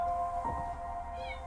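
A cat in the video game Copycat gives a single short meow over a steady hum of game background music.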